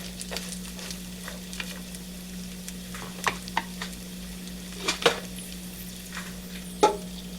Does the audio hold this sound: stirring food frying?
yes